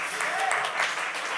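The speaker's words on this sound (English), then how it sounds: "We can clap for that." An audience breaks into brief, dense applause, a short burst of clapping that fills the moment.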